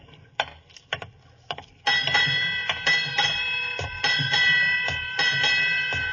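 A ship's bell strikes eight bells, ringing out repeatedly in a steady rhythm, each strike ringing on, after a few quieter ticks and clinks at the start.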